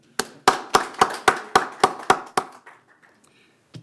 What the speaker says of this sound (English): So I'd like to just give him a hand clap if you would.